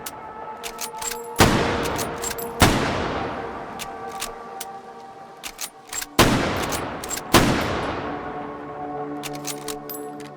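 Guns fire in the VR shooting game H3VR: four loud, booming shots spaced a second or more apart, each with a long decaying tail, plus small clicks and handling noises between them.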